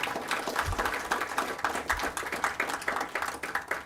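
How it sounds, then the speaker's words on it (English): A small group claps, the individual claps distinct and somewhat uneven, with a faint low thump here and there. "Please, round of applause."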